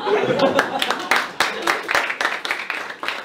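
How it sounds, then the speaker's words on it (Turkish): Audience clapping at a stand-up comedy show, a loose burst of hand claps mixed with chuckles and voices, fairly close and lively for a few seconds. "Alkışlayalım."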